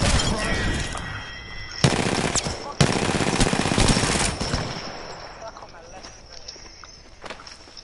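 Gunfire in the battle royale shooter Apex Legends: rapid automatic bursts crackling in long, loud stretches with footsteps in between, fading toward the end, while a player talks over it.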